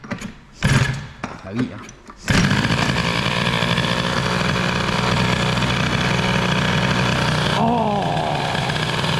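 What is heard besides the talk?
Peugeot 103 moped engine starting and idling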